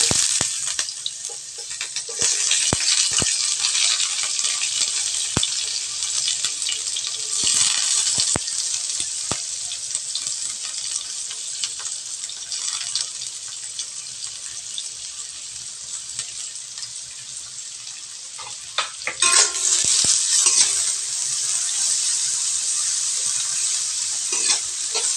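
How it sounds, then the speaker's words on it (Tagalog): Sliced ginger frying in oil in a pan for tilapia with tausi, a continuous loud sizzle with scattered scraping stirs and a sharp burst of crackling near the end, no one speaking. "Maglagay ulit tayo ng mantika guys sa kawali. Ilagay lang natin yung luya."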